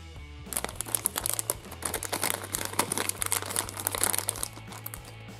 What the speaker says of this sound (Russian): Говорят, надо открыть желтый пакетик.